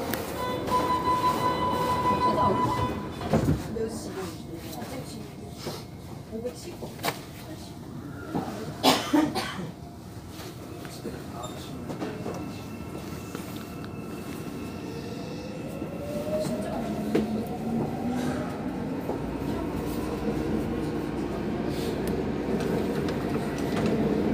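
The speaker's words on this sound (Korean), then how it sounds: "열차가 곧 출발합니다." A Seoul subway Sinbundang Line train leaves Gangnam Station and runs along the track, its rumble and rising whine building steadily, with a cough and brief voices early on.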